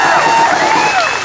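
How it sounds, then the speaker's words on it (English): A rally crowd cheers and whoops loudly in a dense, continuous roar of many voices, with applause mixed underneath. "let's give them a big round of applause"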